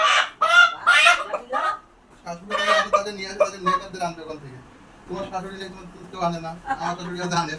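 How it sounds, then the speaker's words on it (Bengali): A big native desi rooster clucks and calls in short loud bursts, close by, mixed with people talking nearby. "দেখুন বন্ধুরা কত বড় মোরগ, একদম কিন্তু দেশি মোরগ"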